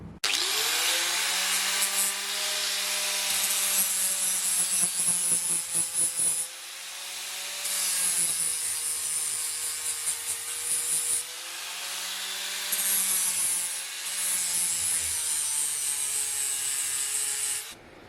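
A power tool shaves down a welded nut for a lower control arm bolt, grinding in a loud, close whine over three bursts separated by brief drops in pitch.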